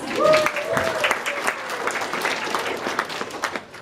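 Audience applause at a comedic storytelling performance, a steady patter of clapping hands that follows a brief voice and keeps going at moderate loudness.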